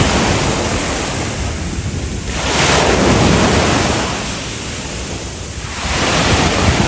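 Waves breaking on the sea at Alanya, two broad surges of roaring surf rising and falling over steady loud wind noise on the microphone, no talking.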